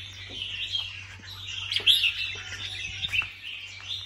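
Red-whiskered bulbul chirping in short bright bursts over several seconds, moderately close, with a steady low hum running underneath and no talking.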